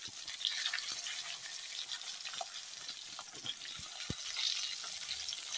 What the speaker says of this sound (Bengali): এখন আমি এই একই তেলে বেগুনগুলো দিয়ে দিচ্ছি।